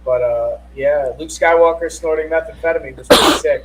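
One sharp, loud sneeze bursts out close by right after a stretch of someone talking.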